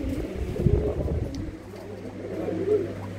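Pigeons coo in low, soft rounded calls at a rural pigeon loft in Tangra village near Amritsar, with rattling movement and a steady low hum beneath.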